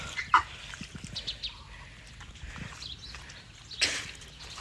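A few soft, scattered duckling peeps and cheeps over quiet background noise, with one louder burst near the end.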